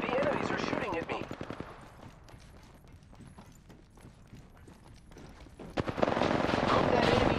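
Enemy automatic gunfire in Apex Legends rattles in rapid bursts at the start and again near the end, loud and dense, with a quieter stretch of scattered shots between and a voice talking over the action.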